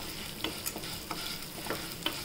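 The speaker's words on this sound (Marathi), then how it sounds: "सगळं असं थोड्याशा तेलामध्ये भाजून घ्यायचं" Cumin seeds and black peppercorns roasting in a little oil in a pan for curry leaf rice, a quiet steady sizzle broken by a few soft scraping stirs.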